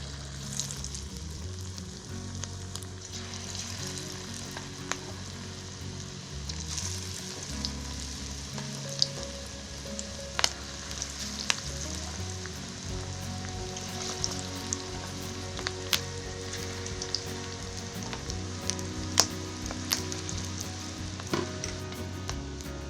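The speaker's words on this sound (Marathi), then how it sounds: "आता मी हे तेलामध्ये सोडून दाखवते तुम्हाला" Small clam bhaji, a spiced clam fritter batter dropped into hot oil, fry with a steady soft sizzle and scattered crackling pops that continue for over twenty seconds with no talking.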